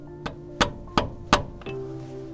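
Four sharp hammer taps ring out at a steady pace as a rear axle seal is driven into place on a third-generation Toyota 4Runner, each strike close and metallic, followed by a brief low hum.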